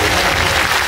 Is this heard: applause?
yes